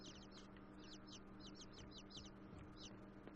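Birds in the dark, quiet world of INSIDE, a faint repeated series of short chirping calls in a steady rhythm over a low ambient hum.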